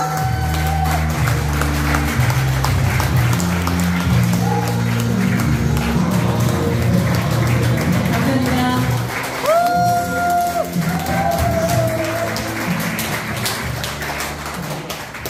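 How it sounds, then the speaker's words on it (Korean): Loud, continuous applause from a seminar audience greets a speaker coming up, with background music playing and brief voices heard over the clapping. "여러분 큰 박수 부탁드립니다"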